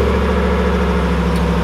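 A 5.7-liter Hemi V8 in a 2020 Ram 1500 Rebel pickup, started by remote, idles steadily with a low, even engine rumble close by, without revving or talk.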